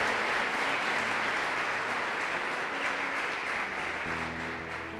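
A church congregation claps loudly and steadily in a sustained wash of applause that eases slightly toward the end, with no voices standing out.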